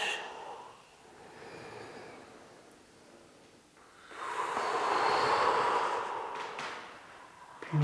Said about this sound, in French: J'inspire par le nez, puis j'expire par la bouche.